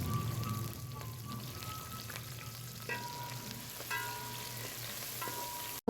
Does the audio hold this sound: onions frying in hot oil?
yes